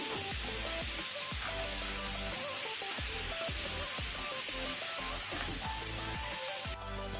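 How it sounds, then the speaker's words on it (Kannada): Crabs roasting in a pan over a high flame, a steady loud sizzle and hiss with repeated rhythmic scraping or stirring strokes throughout, with no one speaking. "ಈಗ ಇದನ್ನು ಹೈ ಫ್ಲೇಮಲ್ಲಿ ಸ್ವಲ್ಪ ನೀವು ರೋಸ್ಟ್ ಮಾಡ್ಕೊಳ್ಳಿ"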